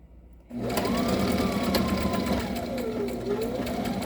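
A sewing machine runs in reverse stitch. Its close, steady mechanical whir and rapid needle rhythm start abruptly after half a second and continue evenly to the end.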